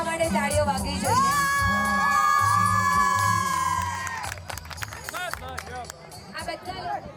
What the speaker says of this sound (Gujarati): ઓહો, કમોન, બધા માટે તાળીઓ વાગવી જોઈએ.